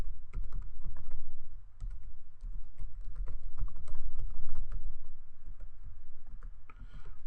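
Rapid clicking keystrokes on a computer keyboard, close and clear, run in uneven bursts with short pauses for several seconds, with no speech.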